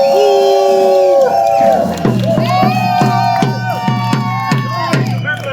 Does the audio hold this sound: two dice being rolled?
no